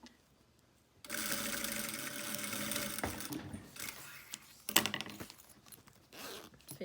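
A sewing machine stitches fabric while sewing a gift kit, its motor whirring steadily for a couple of seconds, then stopping and giving way to scattered clicks and rustles of handling.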